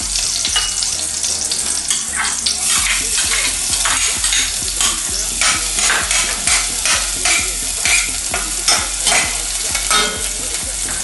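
Garlic fries in hot cooking oil in a pan for pininyahang manok, a loud, close sizzle broken by repeated scraping and knocking of a utensil stirring against the pan, with no talk.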